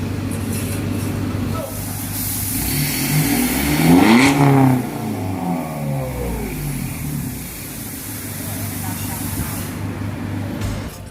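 An Isuzu D-Max diesel pickup engine revving during a black smoke emissions test: a steady idle climbs into a loud rev near the middle and falls back, with someone talking over it.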